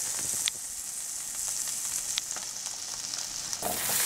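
Salmon sears in a hot frying pan with a steady, bright sizzle and occasional sharp pops and crackles, close up and continuous with no talk.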